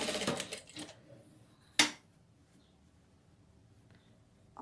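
A sewing machine runs in a short burst while stitching a doll dress, followed by a sharp click and near silence with faint handling noises.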